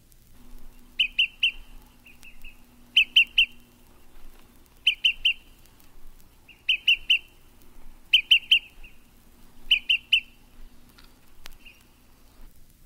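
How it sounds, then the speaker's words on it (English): Acadian flycatcher song, recorded in the eastern United States: six sharp, emphatic two-part phrases roughly every two seconds, clear and fairly close, with quiet background between them. "Acadian flycatcher."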